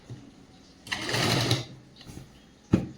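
A sewing machine runs one short burst of stitching along a folded school skirt hem. A couple of quieter clicks and a sharp knock follow close by.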